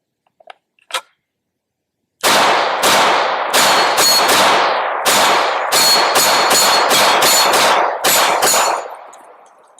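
An MX19 aluminum-frame pistol fires a full magazine, about fourteen loud, close shots in a quick, slightly uneven string, each with a ringing echo, then a fading tail; a couple of faint clicks come before the shooting.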